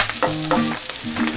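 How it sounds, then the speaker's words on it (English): Wild mustard greens sizzle in a hot pan while being stirred, a close, steady frying hiss broken by scraping strokes of the utensil, with no voices. "And now add the mustard right in. Mix it up."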